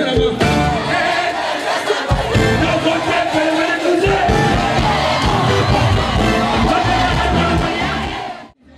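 A concert audience in a trance-like frenzy cheers and shouts loudly after a two-hour, colourful music show, with a dense roar of voices and whoops that fades out abruptly at the end.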